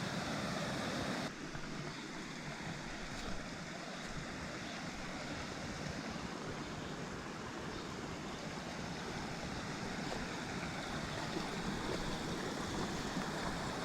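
A stream on a hot, sulfur-smelling Costa Rican jungle trek pours into an underground hole like a tunnel, giving a steady, close rushing and gurgling of water that stays loud and even throughout, with no talk.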